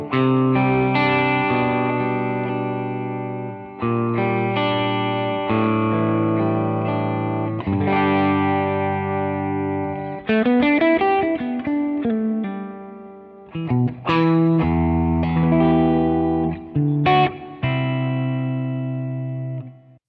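Electric guitar notes ring out through a Boss RV-200 reverb pedal in hold mode and are held in a long, swelling reverb wash, chords sustaining and blurring into one another with brief pauses between phrases.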